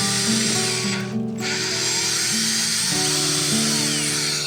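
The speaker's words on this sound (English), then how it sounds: "you're drilling into the fence" Power drill boring into a garden fence, a loud continuous whirring drone with shifting pitch and one brief dip near the middle.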